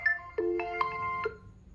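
An Oppo A16E smartphone plays its ringtone through its speaker, a short bright melodic phrase of several clear electronic tones in quick succession, close and isolated with no talk.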